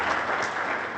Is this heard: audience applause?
yes